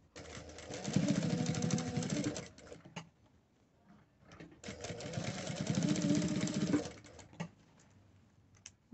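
A sewing machine stitches a two-colour 3D fabric face mask in two sustained runs of rapid, steady whirring, each lasting a couple of seconds, with a quiet pause and a few small clicks between them.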